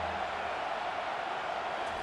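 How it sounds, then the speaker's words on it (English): A stadium crowd in the College Football 25 video game, in an Ohio State dynasty matchup, roars in support of the defense on third down, a continuous dense wash of noise with no clear breaks. "Big third down as the crowd gets behind this defense."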